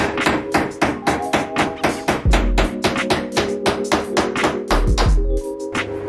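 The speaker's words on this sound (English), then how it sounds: "just gonna get a nail started, knock them around until they're flush with each other and then send the brad home" A hammer driving brad nails into timber architraves during a bathroom renovation, a quick run of evenly spaced sharp taps with a few heavier knocks, close and loud with no voices.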